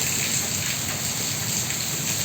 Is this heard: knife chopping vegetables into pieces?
no